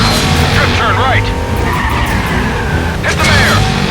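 Drift turn in the stunt-driving game Stuntman Ignition: a car's tires squeal and skid through the turn over a roaring engine, with a voice speaking alongside.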